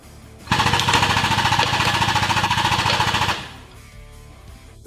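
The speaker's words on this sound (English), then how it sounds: "And now we'll pull the hub out." A hydraulic puller drawing a wheel hub out of its bearing seat with a VIGOR universal wheel bearing set gives a loud, steady rapid hammering rattle for about three seconds, then stops abruptly, leaving a quiet hum.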